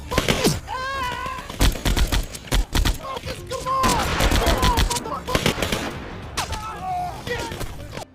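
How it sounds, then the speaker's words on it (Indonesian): Heavy gunfire crackles in rapid bursts and scattered shots, overlapping from several sides, with pained groans and shouts mixed in between volleys. "tiba-tiba mereka dikagetkan dengan tembakan dari beberapa arah"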